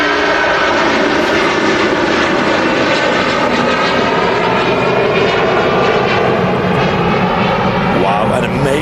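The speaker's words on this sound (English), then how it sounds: "Virgin Atlantic A330." A Virgin Atlantic Airbus A330 takes off from Manchester Airport with a loud, close, sustained jet-engine roar that stays powerful throughout.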